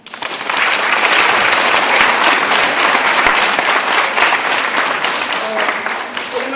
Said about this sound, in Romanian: Cred că merită cele mai sincere aplauze.